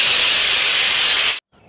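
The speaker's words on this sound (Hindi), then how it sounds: "ये देखिए दाल की सीटियाँ भी लगने लगी हैं।" A pressure cooker of dal on the stove lets off a loud, close, steady hiss of escaping steam that cuts off abruptly after about a second and a half.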